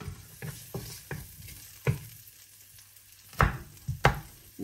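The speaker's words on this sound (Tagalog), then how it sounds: "So mainit na yung kawali, lagyan na natin ng onion and garlic." Onion and garlic frying in a hot kawali, with a steady soft sizzle broken by clicks and scrapes of stirring, close up, with no talking.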